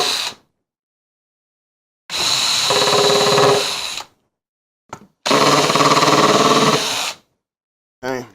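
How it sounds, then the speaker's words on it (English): A power drill boring a pilot hole on a lathe station, running in two sustained bursts of about two seconds each, separated by silence, with a brief tap and a short final spurt. "So now I can drill a pilot hole here."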